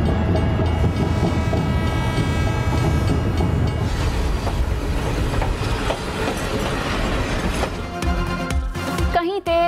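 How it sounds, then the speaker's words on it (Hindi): A rail car runs along the tracks in Pakistan, giving a steady rumble with rhythmic wheel clatter, close and loud, then squealing wheel tones toward the end as it slows. "मुसाफिरों की पहली तरजीह रेल कार"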